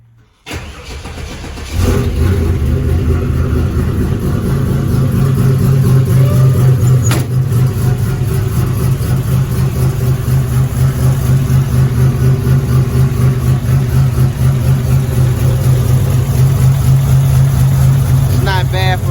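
A Buick Grand National that hadn't run in a long while, with an exhaust header crossover problem, cranks briefly, catches and settles into a loud, steady, close-up idle that runs on without pause.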